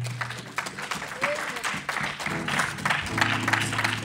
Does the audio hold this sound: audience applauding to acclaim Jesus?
yes